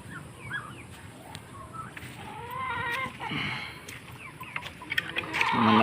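Turkeys gobble in a rural farmyard among chickens and ducks, with several rapid, quavering calls rising over steady rain-like background noise and growing louder toward the end.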